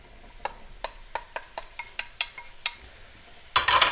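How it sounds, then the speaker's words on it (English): Mushrooms and onions going into an oiled frying pan on a Blackstone griddle for pork tenderloin stroganoff: a run of about ten sharp clicks and scrapes, then a sudden loud burst of sizzling at the end. "now I'm going to introduce the vegetables to my frying pan. This is mushrooms"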